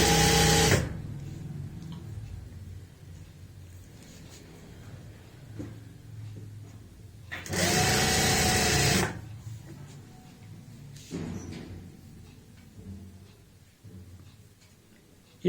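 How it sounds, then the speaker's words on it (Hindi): An electric sewing machine stitches lining to the main fabric of palazzo pants in short bursts, a close whirring run at the start and a longer one in the middle, with quiet fabric handling between. "हम इस तरीके से यहाँ पे जोड़ते जाएंगे अस्तर और मेन फैब्रिक को आपस में"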